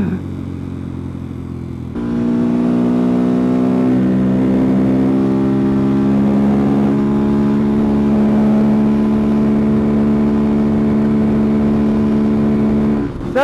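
A Honda Grom motorcycle holds a loud, steady high-revving engine whine after a sudden start, its pitch climbing slightly as it accelerates hard up toward 74 miles an hour.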